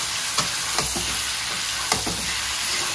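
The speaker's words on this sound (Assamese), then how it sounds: "আদা নহৰু দি লৈ ধুনীয়াকৈ ভাজি ল'ম অকণমান টাইম" Ginger and garlic fry in a pan for an oil-free pork dish with tenga mora leaves, a continuous close sizzle broken by a few sharp spatula clicks.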